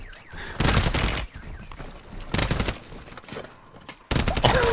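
Bursts of rapid automatic gunfire from Call of Duty Modern Warfare 3 Zombies come in several loud volleys separated by quieter pauses, ending in another heavy barrage.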